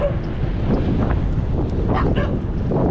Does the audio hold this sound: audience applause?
no